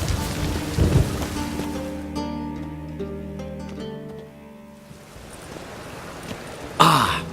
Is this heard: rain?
yes